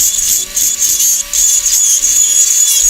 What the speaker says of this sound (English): Excuse me if this sounds a bit like a dentist drill.